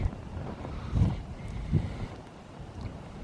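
Wind gusts buffet a microphone outdoors, a low rumbling roar that swells and fades in a few soft surges.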